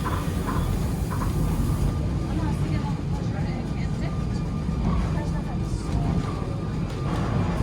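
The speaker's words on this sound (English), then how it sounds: "we're taking the tram down to Port de Solo" A tram rolls toward Port de Sóller on Mallorca, its steady rumble and rail noise continuing throughout, with faint voices of passengers mixed in.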